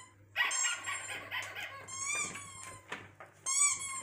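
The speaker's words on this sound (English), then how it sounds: "First one is dog squeaking." A dog's high squeaky whines and yips, a few short bursts close by with brief pauses, over a faint steady hum.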